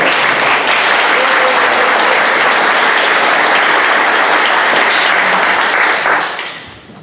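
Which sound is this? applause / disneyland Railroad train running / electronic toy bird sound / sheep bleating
applause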